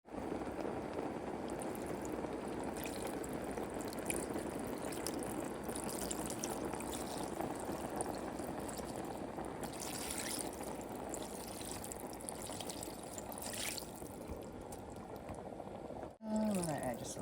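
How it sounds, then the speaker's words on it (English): Water pours steadily into a pot of turnip greens in a home kitchen, a continuous splashing rush that lasts several seconds before ending abruptly. "Now we're going to add the water."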